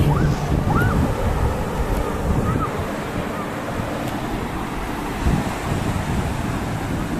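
Sea waves break on a beach in a continuous loud wash, rising a little near the start and again partway through, with wind rumbling against the microphone and no voices.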